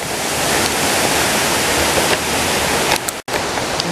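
A waterfall in the Nabari area of Mie Prefecture, Japan, gives a loud, steady, broadband roar of falling water that continues without a break and has no voices over it.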